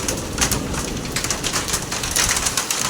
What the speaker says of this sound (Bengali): শিলা পড়ছে, শিলার আওয়াজটা কেমন হচ্ছে দেখো, এত শিলা পড়ছে, আওয়াজ প্রচণ্ড আওয়াজ হচ্ছে